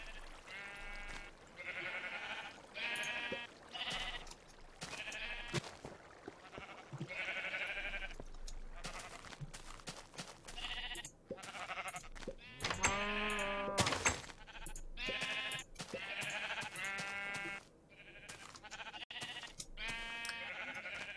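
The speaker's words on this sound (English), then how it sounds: "So now I've got a sheep of every color." Sheep in the Minecraft video game bleat repeatedly, several wavering baas in close succession, fairly loud over a dense steady background.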